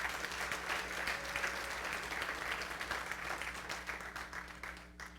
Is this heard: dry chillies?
no